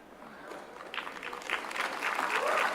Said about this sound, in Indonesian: Kita tepuk tangan untuk Pak Joko.